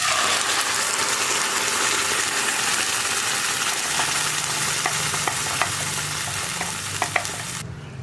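Loud, steady sizzling of a ground spice paste hitting hot oil for chickpea curry, a dense crackling hiss that holds throughout, with a few faint clicks near the end.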